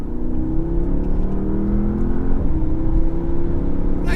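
Porsche Panamera accelerating hard from launch control at night, a loud steady engine roar heard from inside the car, with pitch climbing as the revs build.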